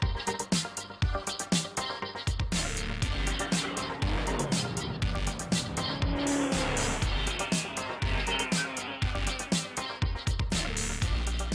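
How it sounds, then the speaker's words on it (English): A 2013 Lexus LS460 sedan with the F Sport package on the move, its engine note rising and falling under a stream of tire and road noise, with bursts of sharp transient sounds throughout. "Let's drive the 2013 Lexus LS460 with the F Sport package"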